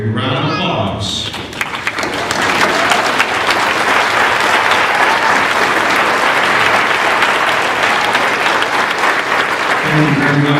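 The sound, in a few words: applause for faculty and staff at a commencement ceremony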